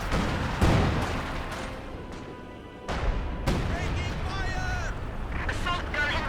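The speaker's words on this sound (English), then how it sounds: "There's another left 18 barrage." A leFH 18 artillery barrage in the video game Company of Heroes 2 booms out in several heavy, rumbling blasts spaced a few seconds apart, loud and close, with a background battle hum running throughout.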